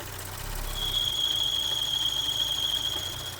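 A failing PCV breather on a 3-liter Audi engine gives off a thin, sustained high-pitched screech that stays steady over a low engine hum under the open hood.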